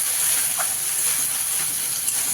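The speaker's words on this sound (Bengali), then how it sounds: "সেই মশলাটাই দিয়ে দেখো ভালো করে একটু কষিয়ে নিচ্ছি" Ground ginger, cumin and dried chili paste fries in a pan for a rohu fish curry, giving a steady, even sizzling hiss throughout with no talking.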